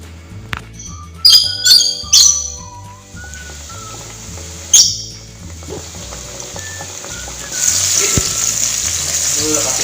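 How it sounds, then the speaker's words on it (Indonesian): Food frying until golden brown for nasi gurih daun jeruk, a steady sizzle that rises louder toward the end, with a few sharp clatters and squeaky utensil sounds early on. "Kita goreng sampai kuning kecoklatan teman-teman"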